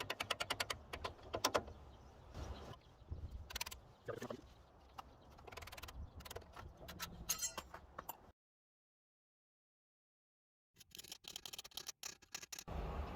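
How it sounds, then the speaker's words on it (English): Sharp metallic taps from a punch driving the pins out of a Brembo brake caliper, a quick irregular series of clinks up close, then a silent pause before another burst of rapid tapping. "using a punch, we'll go ahead and tap these pins out here"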